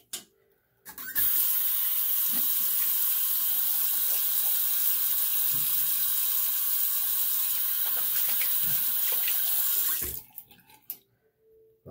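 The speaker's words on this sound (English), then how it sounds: "let me rinse off" Tap water runs steadily into a sink for about nine seconds while someone rinses off after a wet shave with triple milled shaving soap, a close, continuous hiss that starts and stops abruptly, with a few handling knocks.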